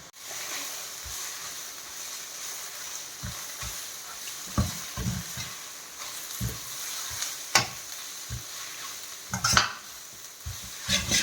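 Beaten egg seasoned with salt and pepper fries in a pan for street-style chicken fried rice, a steady close hiss broken by scattered spatula knocks and scrapes, growing busier toward the end, with no talking.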